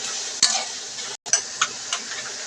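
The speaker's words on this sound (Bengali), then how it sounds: "আর এখানে আমি হাফ রসুন দিয়ে দিব, আর হাফ টুকরো রসুন আমি পরে দিব। ভালো করে নেড়ে চেড়ে দেব।" Garlic fries in a pan with a bright, steady sizzle, and a utensil gives a few quick scraping strokes against it, broken by a brief gap of silence.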